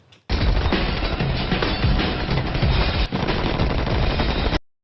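Gunfire from the action film The Raid, a dense, loud sustained burst of rapid automatic shots lasting about four seconds, then stopping abruptly.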